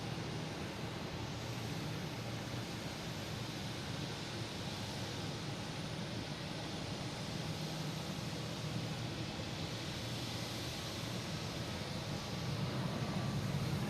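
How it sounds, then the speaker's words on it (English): An American Airlines Airbus A321neo takes off at Boston Logan, a broad steady jet roar heard from a distance, even and unbroken, rising slightly at the end, with no voices. "And also have American Airlines taking off, heading to Charlotte, A321neo."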